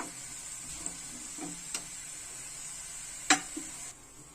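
Steady hiss of oil sizzling in a pan as sesame seeds and garlic fry, with a few light clicks and a sharp tap of a spoon against the pan.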